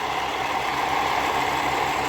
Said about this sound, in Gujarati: આપણે હે ને ડીઝલ પંપ ચાલુ કર્યો બેરલમાંથી